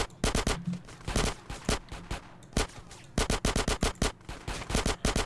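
Rapid bursts of automatic gunfire from GTA San Andreas, a video game, ring out in clustered volleys with short gaps between them, loud and close throughout.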